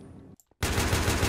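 Rapid automatic gunfire in a Minecraft Battlefield mod game erupts after a brief silence and continues as a dense, loud burst of shots.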